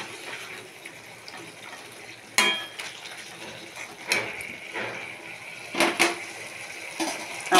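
A spoon stirs and scrapes taro leaves (kochu shaak) drying in a pan, giving intermittent scraping strokes and clinks every second or so over a soft background hiss, close by, with no talking.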